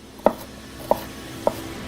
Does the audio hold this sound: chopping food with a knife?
yes